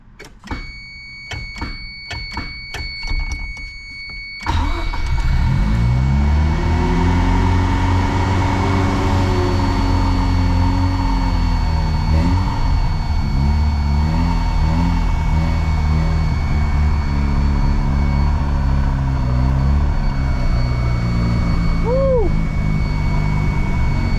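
A Mazda RX-7 rotary engine starts after several clicks of cranking, then runs rough and unsteady, its pitch wavering as it revs and struggles to hold an idle, loud and close throughout.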